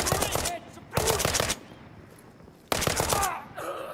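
Close, loud bursts of automatic gunfire in the tactical shooter game Incursion Red River: two rapid volleys, a short lull, then another sustained burst, with no voices.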